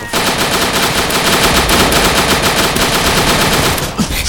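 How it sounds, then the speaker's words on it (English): Dense, continuous automatic gunfire from the World War II dinosaur shooter Dino D-Day, rapid machine-gun bursts sustained loudly throughout with no pauses and no talking. "Somebody's just shooting at somebody."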